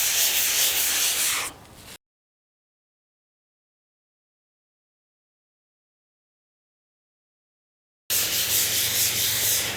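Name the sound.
scrubbing blue patina off with kitchen scrub pad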